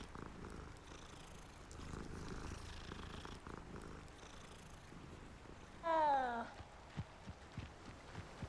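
A virtual cat being petted in Hogwarts Legacy gives a soft purr, followed by a short rising meow-like burst, faint under quiet game ambience with scattered clicks.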